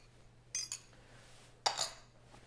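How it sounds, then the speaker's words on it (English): A utensil clinks against a glass bowl in two brief, bright knocks while whisked eggs are stirred into corn spoon bread batter, set against quiet room tone without speech. "And then we're just gonna stir this together."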